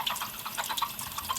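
A makeup brush rinsed under running tap water, giving a steady low splashing and trickling for a second and a half with no talking.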